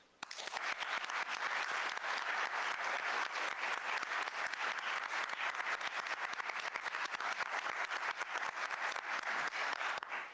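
Sustained audience applause at a university book presentation, a dense, steady wash of many hands clapping that holds loud and even for about ten seconds without talk.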